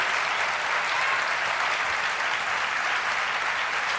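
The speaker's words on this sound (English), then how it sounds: "a lot of applause for my surviving disease" Studio audience applause on a late-night talk show, a thick, continuous wash of clapping from a large crowd, steady and moderately loud across a few seconds with no voices.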